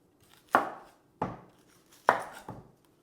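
A knife slicing through an onion on a cutting board: four sharp chops spaced unevenly, each a crisp near thud with a short fading tail, with no voices.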